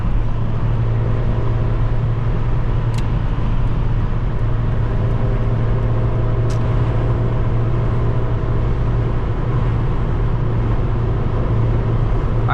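A 1988 Acura Integra LS with a 5-speed manual cruises at about 68 mph and 3,500 rpm, heard from inside as a loud, steady engine and road drone that holds unchanged throughout, with no talking.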